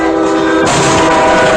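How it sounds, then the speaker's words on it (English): A train passes with a loud, sustained horn blast over the rolling rumble of its wagons, the sound close and continuous throughout. "there goes the train"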